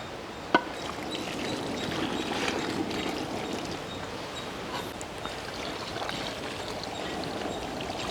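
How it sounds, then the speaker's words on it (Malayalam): Beef cooking water is poured into a Kerala-style tapioca (kappa) biryani, a steady liquid splash and trickle running throughout with faint kitchen clatter and no talk. "അപ്പോൾ നമ്മൾ ബീഫ് വേവിച്ചെടുത്ത വെള്ളം നമുക്ക് ഇതിലേക്ക് ഒഴിച്ചു കൊടുക്കാം"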